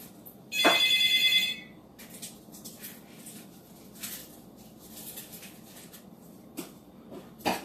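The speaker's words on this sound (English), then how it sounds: "Y'all just heard the phone ring." A wife's mobile phone rings loudly in a home kitchen during soup cooking, a bright electronic ringtone lasting about a second, followed by quieter kitchen sounds and faint clatter.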